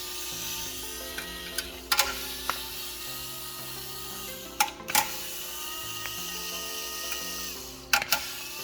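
A ratchet drives an 8mm bolt while an aftermarket HD Android navigation head unit is fitted in a 2015–2020 Toyota Sienna, giving a few short, close clicking bursts over steady background music.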